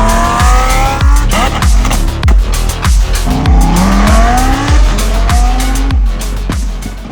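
Lamborghini Huracán Evo fitted with a Voodoo exhaust and HD tune, roaring loud and close with repeated sharp revving pulses, gear-shift sweeps and tire squeal throughout.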